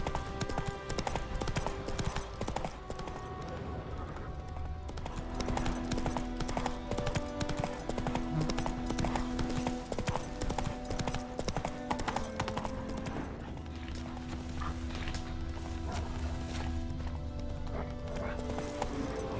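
Geralt's horse Roach trotting in The Witcher 3, steady clip-clop hoofbeats running the whole way through under music and game ambience, with occasional voices over it.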